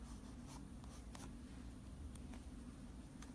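Faint pencil scratching on paper during a doodling session, with soft intermittent strokes under a steady low background hum.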